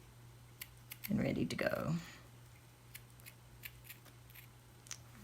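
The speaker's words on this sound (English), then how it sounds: "I'm going to cut one just to have, in case I decide to use it." Scissors snip through a piece of burlap in one short burst of crisp cutting, close and fairly quiet, with a few faint clicks around it and a voice briefly speaking.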